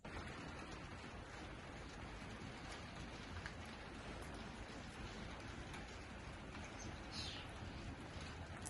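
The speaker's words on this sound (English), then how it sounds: "A little bit of rain." Light rain falls steadily with a soft, even hiss and patter, faint and continuous throughout, with no voices and only occasional slight brighter drips.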